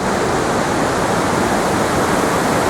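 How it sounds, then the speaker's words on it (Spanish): A waterfall on a gorge hiking trail in the Redes Natural Park in Asturias, with a horsetail-shaped cascade near a bridge: a loud, steady, broadband rush of falling water that never lets up, with no other sounds. "la cola de caballo y la bajada de la cascada está ahí."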